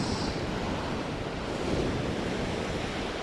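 Big ocean waves surge and break on the shore on a windy, noisy day, a steady roaring wash of surf blended with gusting wind buffeting the microphone, continuous and close throughout.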